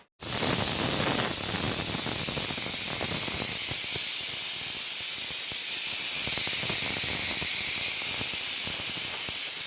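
Chicken curry boiling in a covered pot gives a steady, loud hiss of steam that starts abruptly and holds unbroken, with faint bubbling crackle underneath and no talk.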